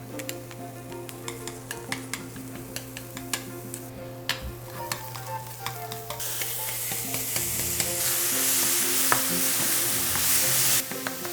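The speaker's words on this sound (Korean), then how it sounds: "이렇게 지금 팬이 예열된 상태에서 먼저 버섯을 먼저 볶을 거예요" Mushrooms stir-fried in a preheated pan: a spatula taps and scrapes in frequent short strokes, then a loud hissing sizzle swells up and holds for several seconds before easing off.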